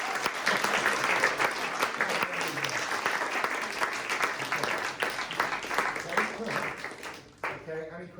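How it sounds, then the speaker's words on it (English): A room of attendees at a mentee project showcase gives a round of applause, steady moderate clapping mixed with cheering and chatter, tapering off near the end. "So a big round of applause for all of you."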